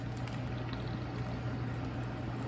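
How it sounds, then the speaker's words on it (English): Hot boiled water poured over ginger, turmeric and pepper for tea, a soft continuous splashing pour with a low steady hum beneath, quiet and close. "I'm going to pour it directly on top of the ginger, turmeric,"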